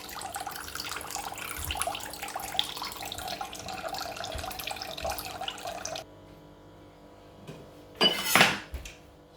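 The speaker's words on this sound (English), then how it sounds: "First I'm going to start off with some cold water." Cold water runs steadily from a kitchen tap for several seconds, then cuts off, followed by a brief louder splash or clatter near the sink.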